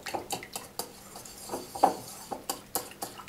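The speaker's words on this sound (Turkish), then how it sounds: "Bunları güzelce çırpalım bir." Whisk beating yogurt, egg and lemon juice in a bowl, a fast run of sharp metallic clicks and scrapes against the bowl in an irregular rhythm, close and fairly quiet.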